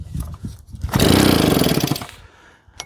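A small JAP 36cc two-stroke engine driving a Stuart water pump bursts into a loud, buzzing run for about a second before dying back down, with quieter mechanical rattles on either side.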